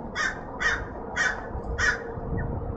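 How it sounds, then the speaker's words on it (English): A crow caws four times in an even rhythm, loud and fairly close, over faint background noise. "There was the crow."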